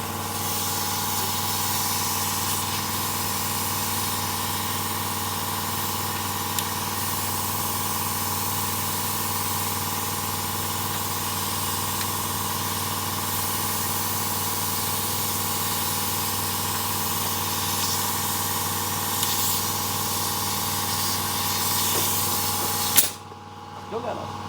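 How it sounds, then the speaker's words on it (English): Compressed air from an air compressor blows steadily and loudly on an Eastwood Versacut plasma cutter, a continuous hiss with machine hum beneath, ending abruptly near the close. "Let that compressor do its thing for a minute. Go ahead and take this and put some air on it."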